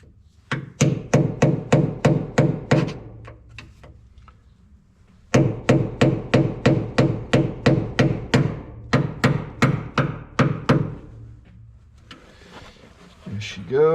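Rapid bursts of metal-on-metal hammer blows drive a tool down behind a hydraulic hose fitting on a Minneapolis Moline A4T tractor to pry it off, two long runs of steady, loud, ringing strikes with a short pause between them.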